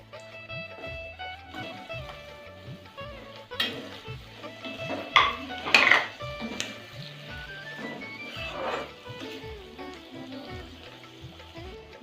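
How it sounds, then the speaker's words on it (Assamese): Cut tomatoes drop into a pan of browned onions for a matar paneer gravy, giving a few close clatters and a brief splashy burst amid steady low frying and stirring, with no talk. "এতিয়া আমি দুটা বিলাহী কাটি এনেকৈ দিম।"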